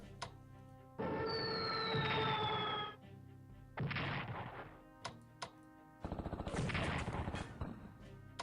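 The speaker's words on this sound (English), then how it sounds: "let's go ahead and bomb the troops of the 6th Army at Sevastopol" Bombing of troops at Sevastopol in the World War II strategy game Strategic Command, heard as separate blocks of loud bombing sound effects, including a descending whistle, heavy thuds and rapid rattling explosions, with short silent gaps between them.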